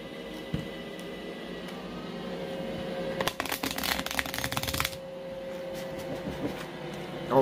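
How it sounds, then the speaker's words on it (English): Tarot cards are shuffled up close in one quick burst of dense riffling that lasts under two seconds, then stops, set against a quiet room hum with no talking. "We're gonna shuffle one more."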